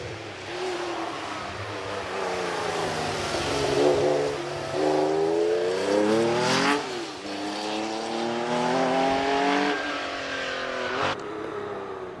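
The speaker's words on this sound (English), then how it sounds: "Richard Jones on his way in the Porsche." A Porsche race car powers up a Prescott hill climb course, its engine loud and continuous, rising in pitch through several gear changes over about twelve seconds with a brief tire squeal near the end.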